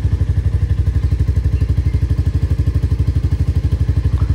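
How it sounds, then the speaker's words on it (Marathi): A Royal Enfield Classic 350 motorcycle idling after a cold start, its single-cylinder engine thumping in a steady, even low pulse, close and loud with no other sounds. "गाडी आपण कोल्ड स्टार्ट करू आणि इंजिन थोडा वॉर्म होईपर्यंत मी रेडी होईल"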